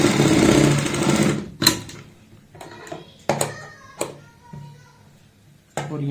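A sewing machine stitches a kurta seam with a one-foot margin, a dense fast whir for about a second and a half, then stops, followed by a few scattered taps and handling knocks.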